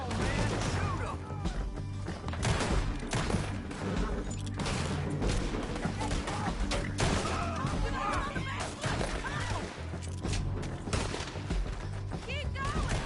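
Gunfire in Red Dead Redemption 2 sounds as repeated sharp shots and scattered bursts in a town shootout, mixed with game music and voices shouting.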